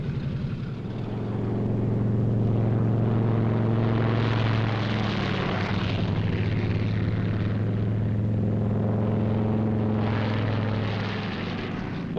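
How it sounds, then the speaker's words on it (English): World War II fighter planes take off in pairs, their propeller engines giving a loud, sustained droning roar that swells and holds, with the engine note shifting slightly as the aircraft go past. "Takeoff by 2s on the quarter minute. Element leader and his wingman."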